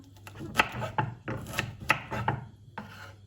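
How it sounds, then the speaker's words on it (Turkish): Quick knife chops on a cutting board, cutting cauliflower, a run of irregular sharp taps with short pauses, close and fairly quiet. "Hemen bunları hızlı bir şekilde doğrayacağım."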